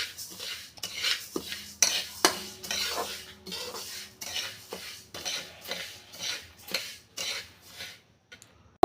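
Flax seeds being dry-roasted in a pan for chutney, a steady run of scraping, clinking stirs against metal at close range, with brief rattling strokes and no talk.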